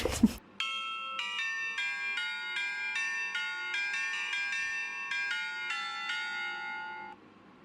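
A bright, bell-like electronic doorbell chime plays a quick festive melody of ringing notes, Deck the Halls, for several seconds, alone and clear, then stops.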